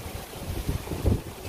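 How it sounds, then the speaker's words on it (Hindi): Hot wind blowing outdoors, a low rumbling gusty rush that swells and fades across the moment with no voices. "अच्छी हवा चल रही है"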